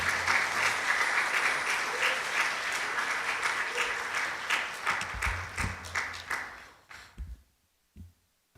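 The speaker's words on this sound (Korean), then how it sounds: "우리 이 시간에 목사님 박수로 환영하도록 하겠습니다." A church congregation at a youth devotional service claps to welcome the pastor, sustained full applause that breaks into scattered individual claps and fades to near silence.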